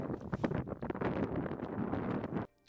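Wind buffets a microphone outdoors at a remote Arctic site, a steady rough low rumble with gusting swells that runs for over two seconds before cutting off abruptly.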